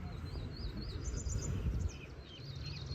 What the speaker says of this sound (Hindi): देखो चिड़ियों की कैसी आवाज़ आ रही है।